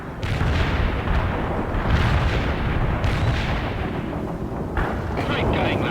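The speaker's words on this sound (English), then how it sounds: "I got a payload of cluster bombs and I'm on the way." Cluster bomb explosions in the World in Conflict video game, with loud, rolling bursts and deep booms following one another without pause, heavy and close, under intermittent voices.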